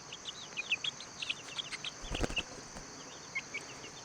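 Young chicks give faint, high, scattered peeps at close range against a quiet background, with one brief dull thump near the middle.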